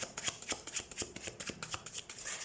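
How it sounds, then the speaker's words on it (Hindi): A tarot deck is shuffled by hand in a quick, steady run of close, crisp riffling flicks and soft card slaps, with no voice. "तो सबसे पहले हम कार्ड शफल कर लेते हैं"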